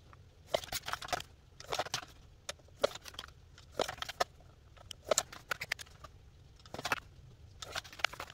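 Scissors cut through the laminated edge of a handmade DIY cash envelope, giving a series of short crisp snips and crunches at close range, irregularly spaced with quiet gaps between them.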